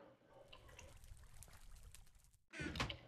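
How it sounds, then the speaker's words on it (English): Water trickles and splashes from a watering can in a Minecraft modpack game, a faint soft pour that turns louder and fuller near the end after a brief gap. "Oh, a watering can."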